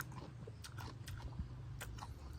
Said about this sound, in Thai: กรอบมากโอ้ยอันนี้เป็นมะม่วงเบา กับกุ้งแห้ง